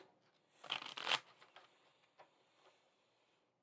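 A deck of tarot cards is shuffled in a quick riffle burst up close, followed by a few softer card flicks and taps in a quiet room.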